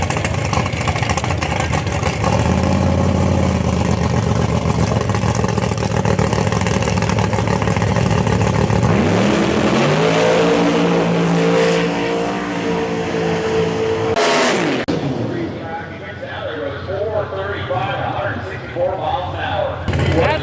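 Race car at a drag strip event powering off the line, a loud sustained engine roar building and shifting over several seconds, with an announcer talking over it throughout.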